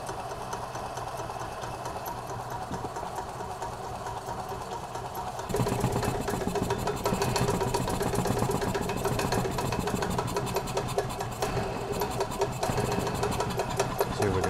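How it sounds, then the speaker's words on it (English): Small gas engine of a 1993 Club Car DS golf cart, freshly serviced with new fuel pump, fuel lines and cleaned carburetor, catching and running with a steady buzzing rattle that steps up louder about five seconds in and holds. "All right, so we got it to crank, we got it to fire, now we just have to adjust our mix."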